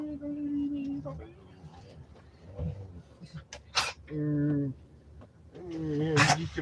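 A puppy's high whimpers and short growly vocal bursts come in several separate spurts, close and fairly loud, with a person talking and fussing over it in between.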